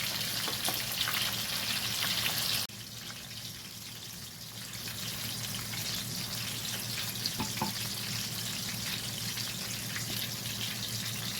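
Fish frying in a pan gives a steady, close hiss and sizzle with fine crackling pops, continuing evenly without any talking.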